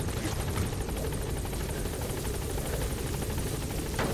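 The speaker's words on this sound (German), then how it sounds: "Heli über so ein Feuer fliegen" Loud, continuous helicopter rotor thumping with a steady rapid beat and whining turbine, close and unbroken, in Metal Gear Solid V: The Phantom Pain.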